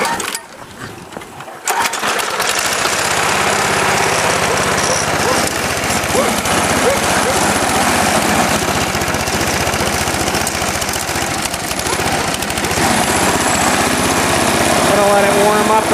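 A small engine on a yard raking machine sputters briefly, then catches and runs at a loud, steady, buzzing idle with a rattling, slightly uneven clatter throughout.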